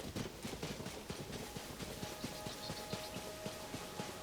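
A horse gallops in the video game Tears of the Kingdom, its hooves pounding in a steady, fast clip-clop rhythm that continues throughout, close and clear, with no talk.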